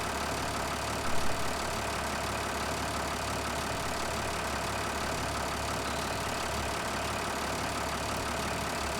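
Tractor engine idling in Farming Simulator 2013, a steady, even mechanical drone held at constant level for the whole stretch with no revving, alone without talk.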